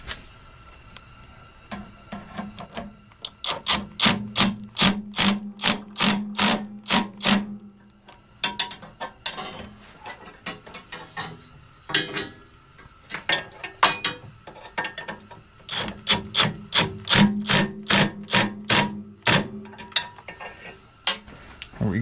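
A wrench ratchets while tightening a bolt on a snowblower, giving rapid bursts of loud, close clicking that repeat in several runs with short pauses between strokes.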